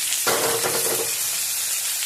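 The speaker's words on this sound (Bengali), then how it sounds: "পটলগুলো একটু লাল করে ভাজা হয়ে গেলে তারপরে আলুগুলো দিয়ে দেবো।" Pointed gourd (potol) frying in oil previously used for fish gives a loud, continuous hissing sizzle that flares up sharply early on and then holds steady.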